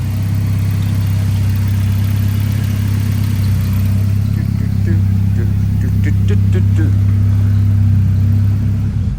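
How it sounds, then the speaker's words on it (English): Ford Escort Cosworth-derived four-wheel-drive Fiesta RS Cosworth engine running outdoors, a steady loud idle with a deep even rumble throughout, and a voice talking briefly over it. "No point trying to talk over the top of the engine"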